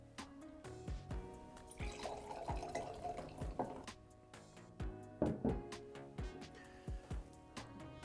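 Hambledon sparkling wine is poured into a glass in a quiet room, giving a soft trickle and fizz under a run of sharp, drip-like ticks and small clinks.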